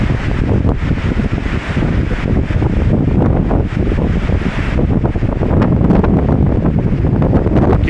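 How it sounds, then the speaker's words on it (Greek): A mistral wind blows hard across the microphone on the Corfu coast at Roda in winter, a loud, continuous rushing roar and buffeting with no pause. "Φυσάει λίγο μαΐστρο"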